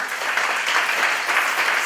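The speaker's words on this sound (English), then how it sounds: "Yeah, you can applaud." An audience applauds at a political advocacy meeting, with steady, dense clapping that stays loud and even throughout the short stretch and has no talking over it.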